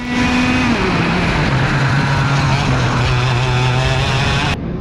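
Racing kart engine howling at high revs on track during a kart race in Orlando, loud and close with a steady buzzing whine that dips in pitch as it slows through a corner, then cuts off abruptly at the end.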